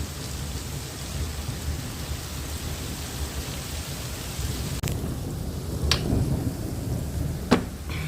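Hail pours down in a storm with wind and rain, making a dense, continuous hiss of pelting ice, with a few sharp knocks near the end.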